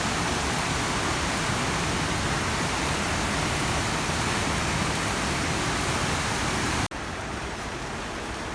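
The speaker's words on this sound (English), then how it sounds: "Let's have a closer look of the waterfalls." Shifen waterfall in Taiwan roars as a steady, loud wash of rushing water that fills the scene without pause, then drops slightly in level near the end as the view shifts.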